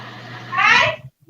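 A dog gives one short whining vocalization during a township planning commission meeting, heard close and fairly loud against a quiet room hum.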